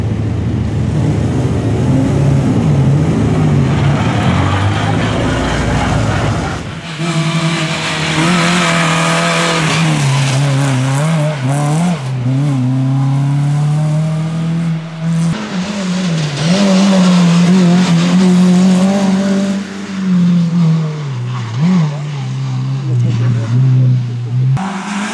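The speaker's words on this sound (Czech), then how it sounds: "Máme tu první vozidlo třídy N3, to znamená ty sériové vozy atmosférické." An N3 class naturally aspirated production rally car at the Partr Rally Vsetín, engine revving hard and shifting through gears as it passes, loud and close, with a commentator talking over it.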